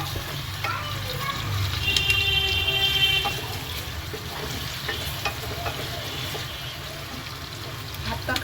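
Onion and garlic frying until brown for a goat leg biryani, a steady soft sizzle with faint stirring scrapes and a brief tonal background sound near the start, close and moderately quiet, no clear talk.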